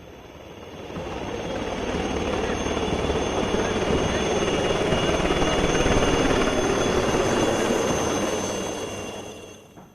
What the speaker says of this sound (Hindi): पासिंग आउट परेड के दौरान कैडेट्स के ऊपर हेलीकॉप्टर से फूलों की बारिश की गई